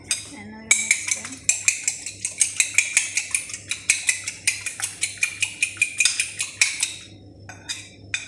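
A utensil beats an egg mixture seasoned with salt for French toast, giving a fast, steady run of close metallic clinks against the bowl that stops briefly near the end.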